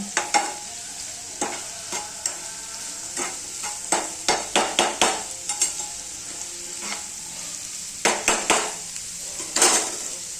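Onion frying in a pan over a gas flame while being stirred, a steady high sizzle under repeated sharp spoon scrapes and clacks against the pan, close and moderately loud.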